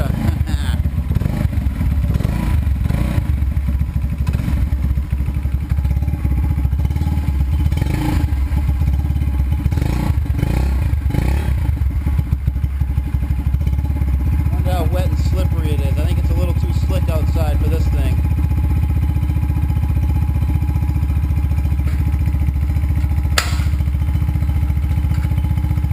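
A small scooter engine runs loudly and close throughout, with a rough continuous drone, clattering, and bursts of revving, while a person talks over parts of it.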